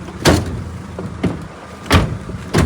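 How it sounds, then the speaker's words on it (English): Van doors swung shut in heavy rain, four broadband thuds spaced about a second apart, the first and third loudest, with no talk over them. "Right, let's close the doors."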